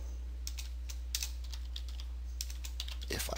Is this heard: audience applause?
no